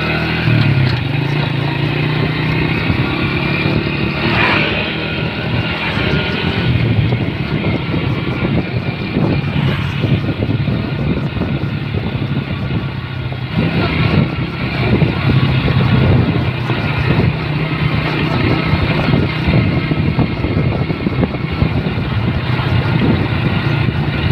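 Honda Supra Fit motorcycle ridden downhill through Lembah Lumadu, its engine droning steadily and loud throughout with wind rush and road noise, no voices.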